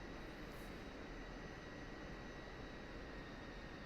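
A flight-simulator aircraft taxiing produces a steady, unbroken engine drone with a faint high whine on top, even in loudness throughout, with no talking.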